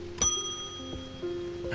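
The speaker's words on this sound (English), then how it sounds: "I don't like that Kitty gets scared from the bell" A shop bell in the video game Strange Antiquities rings once with a bright metallic strike, its tone lingering and fading over a quiet background.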